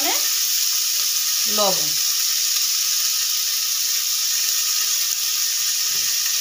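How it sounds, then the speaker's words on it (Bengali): About fifteen broken cashews sizzle in hot oil in a pan while cooking restaurant-style pepper chicken, a steady close frying hiss throughout, with a short spoken word near the start. "1 মিনিট আমি এটা ফ্রাই করব"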